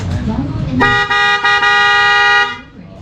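A car horn blares in one long sustained honk with a couple of brief dips, after someone speaks briefly, then cuts off.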